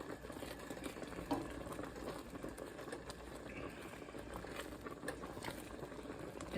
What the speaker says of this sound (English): After it starts to boil, you turn it on low.